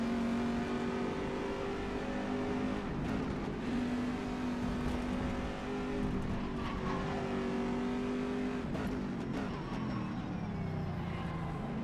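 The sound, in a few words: GTE race car engine lapping Magny Cours in rFactor 2 video game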